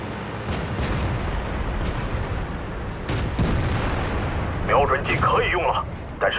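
Booming tank cannon shots and impact explosions in a video game battle featuring a Type 62 light tank on a cliff map, a few heavy blasts spread over the clip with rumbling battle noise between, and a voice speaking near the end.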